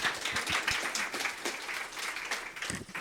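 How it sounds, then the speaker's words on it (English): An audience claps to welcome a speaker at a talk, a dense, steady round of applause from a crowd lasting the whole stretch at moderate distance. "Let's welcome her with big applause."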